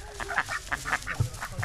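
Ducks in the Ait Bouguemez valley of Morocco give a quick run of short, nasal quacks, close and fairly loud, with a few lower grunting notes mixed in.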